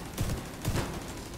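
Shotgun blasts in a video game, two booming shots roughly half a second apart over a low background hum.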